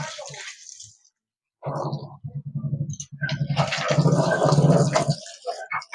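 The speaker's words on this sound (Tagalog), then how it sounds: "magsalok lang tayo ng tubig" Water being scooped into a container, with splashing, pouring sounds in pulsing bursts over several seconds after a brief pause, under faint voices nearby.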